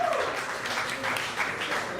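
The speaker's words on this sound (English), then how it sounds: "Please give yourselves another round of applause." Soft applause from an audience at a poetry night, a continuous low wash of clapping heard at a distance, with a faint tone and murmur mixed in beneath it.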